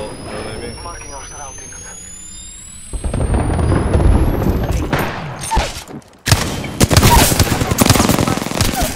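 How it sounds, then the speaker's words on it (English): Rapid automatic gunfire rattles in a Wraith match of Apex Legends, with bursts of shots and impacts swelling and dropping amid chaotic battle noise, a brief lull before the firing resumes loudly, and a voice speaking over the action. "Getting shot at."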